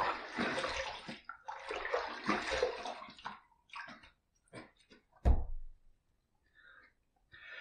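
Running water rinsing after a shave, a loud close splashing rush from a tap for about three seconds, then scattered drips and small knocks in a quiet room.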